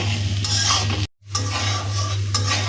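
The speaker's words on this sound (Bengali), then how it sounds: "এখন এভাবে কিছুক্ষণ ভেজে নিব।" Ground spices with chili powder and salt fry in a pan for a fish bhuna, a loud close sizzle with scraping stirs over a low steady hum. A brief dropout falls in the middle.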